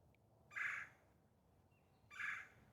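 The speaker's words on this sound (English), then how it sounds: "That noise that you hear is the pileated woodpecker." Two loud, harsh calls from a pileated woodpecker in a cottage garden, spaced well apart against quiet outdoor background.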